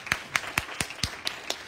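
Church congregation hand clapping in a steady, even rhythm of about seven sharp claps, fairly close and clear, with no talking over it.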